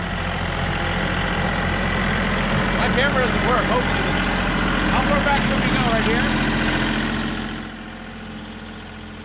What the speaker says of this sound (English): let me drive his tractor